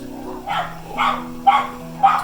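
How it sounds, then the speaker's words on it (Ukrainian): A neighbour's dog in a village barks four times in a steady rhythm, clear and fairly close, over a faint background hum. "і спонсор саундтрека Сусідська собака"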